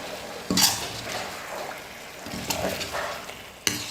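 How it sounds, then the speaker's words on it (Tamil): Metal utensils clink and scrape against a pot while masala for brinjal curry sizzles faintly in oil underneath, with a few sharper knocks standing out. "இப்போ இது எல்லாத்தையும் சேர்த்து நல்லா மிக்ஸ் பண்ணிக்கலாம்."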